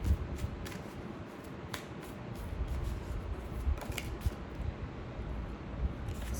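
Tarot cards drawn and shuffled from a deck, soft papery rubbing and light flicking snaps, quiet and close, recurring irregularly with no speech.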